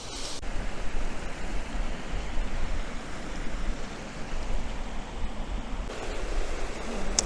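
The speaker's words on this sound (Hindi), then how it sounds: "सिर्फ यहाँ पानी की आवाज़ है" Continuous rushing water at Grey Mare's Tail waterfall near Loch Skeen, Scotland, fairly loud and close, a broad steady wash of flowing sound with slight surges, no voices.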